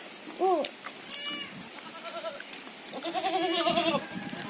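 Several goats bleat one after another, close by, some calls short and some drawn out, over quiet rustling background.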